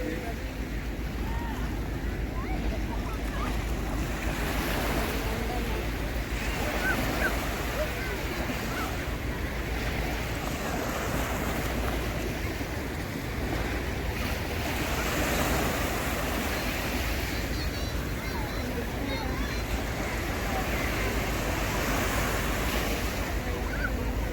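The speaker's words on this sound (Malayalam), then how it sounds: "അഴിമുഖമാണിത്" Surf washes steadily at a river estuary where ships sit close to the seashore, a continuous broadband wash with wind rumble and no distinct individual breakers, heard throughout at a steady level.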